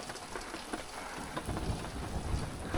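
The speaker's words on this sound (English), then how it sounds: "Look at the rain." Heavy rain drums on the roof of a van near Tioga Peak, a dense steady patter with low thunder-like rumbling building toward the end.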